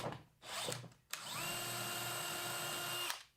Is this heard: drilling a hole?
yes